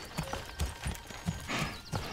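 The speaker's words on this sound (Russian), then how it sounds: "А, бык привез бревно." Ox hauling a log in the medieval strategy game Manor Lords, steady rhythmic hoof clops with creaking and dragging, close and clear with no talk.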